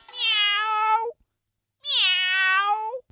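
A tomcat gives two long, loud, close meows separated by a short silence, each rising and then falling away at the end.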